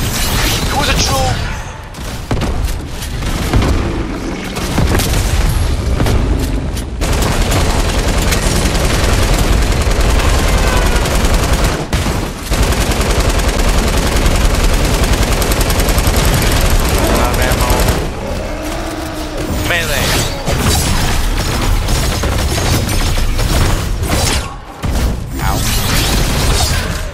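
Sustained loud video game gunfire during a horde rush match, dense and nearly continuous with repeated shotgun-like blasts and crashes, briefly dropping out a few times.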